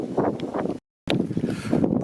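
Wind gusting outdoors into the microphone along a rural walking route, loud rumbling buffeting that cuts out briefly and then resumes.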